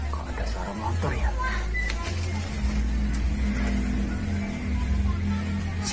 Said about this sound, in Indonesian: Kok ada suara motor ya?